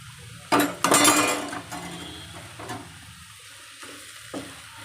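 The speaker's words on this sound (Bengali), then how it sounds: "এইভাবে নাড়ি চাড়িয়ে বাঁধাকপিটাকে ভেজে নেব।" Shredded cabbage being stirred and fried in a pan: sharp metallic scrapes and clinks of the utensil against the pan come in bursts over a soft, steady sizzle.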